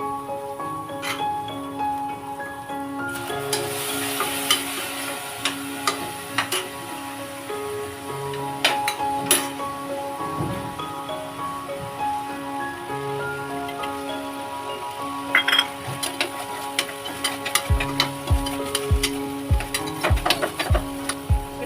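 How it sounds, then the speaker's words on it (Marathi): Dal goes into a hot pan for palak dal khichdi, with steady sizzling and clinking spoon stirring against the pan, a sharp scrape or two, and rapid tapping strokes near the end. "ही मी डाळ टाकून घेत आहे"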